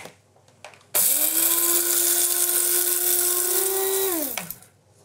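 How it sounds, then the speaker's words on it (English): Electric spice grinder whirring through coriander and cumin seeds: one steady high-pitched motor whine of about three seconds with a rattling grinding texture, starting abruptly and winding down at the end, close and loud with no talking. "So in goes some coriander seed and some cumin seed. And I want to grind those up."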